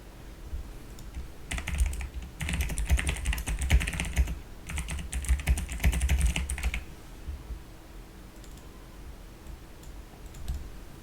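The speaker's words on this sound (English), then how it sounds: "Sorry if I'm doom typing" Rapid computer keyboard typing in bursts, loud and close, with pauses between flurries, recorded during an online poker session; no talking.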